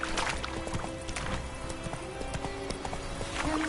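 Roach, a horse in The Witcher 3 video game, gallops with a steady rapid clip-clop of hooves, close and continuous, with faint ambient background.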